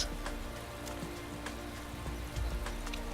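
Rain falls steadily in the Motorsport Manager racing game at Rio, a continuous patter of drops over a low hum, with a brief bump in loudness near the end and no talking.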